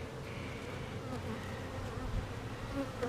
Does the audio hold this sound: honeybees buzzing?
yes